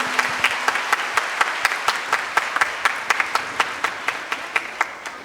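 An audience applauds at a school annual social day: sharp, close hand claps land in a brisk, regular rhythm over a softer wash of crowd clapping, with no talking.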